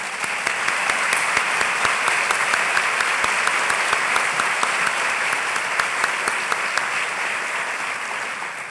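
A large convocation audience at California State University Long Beach applauds in welcome of a visiting faculty delegation from Hebei Normal University, with dense, sustained clapping filling the hall at an even level throughout.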